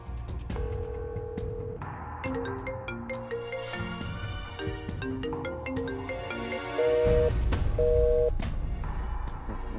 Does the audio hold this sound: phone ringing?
yes